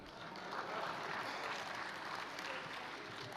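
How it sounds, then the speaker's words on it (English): An assembly audience at the IPU gathering in Kigali, Rwanda, applauds in a large hall, a continuous wash of clapping that swells and holds, heard at a distance and fairly faint. "Now you can applaud."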